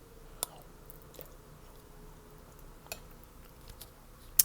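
Quiet close chewing of a bite of mac and cheese made with sharp cheddar, soft wet mastication with a few small clicks and smacks, no talking.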